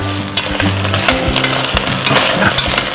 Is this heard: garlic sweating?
yes